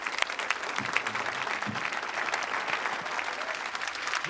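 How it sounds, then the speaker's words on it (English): Applause fills a movie scene set at Ellis Island, a crowd's steady clapping heard at moderate distance, with faint voices or murmurs underneath. "Give me a round of applause"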